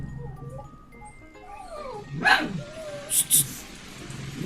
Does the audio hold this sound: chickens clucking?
no